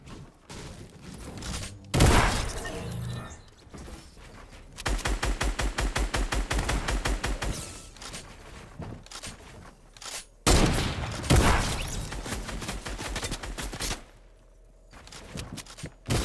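Bursts of rapid gunfire crackle in long volleys with single heavy shots between, sharp and loud, like an intense firefight in the video game Fortnite.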